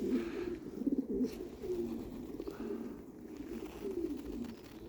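Pigeons cooing inside a loft, repeated soft low coos overlapping in a gentle continuous murmur, close but quiet, with a little faint rustling in the background.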